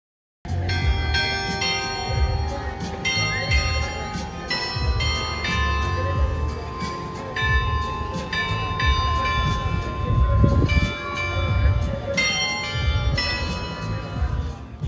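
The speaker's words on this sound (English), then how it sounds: "The bells of Piazza Clock Tower ring out the Georgian hymn at 12," Clock tower bells at Piazza in Batumi, Georgia, ring out a hymn melody. The bright, tuned strikes come in repeated phrases over a busy square's steady background murmur, with a brief louder low thump near the middle.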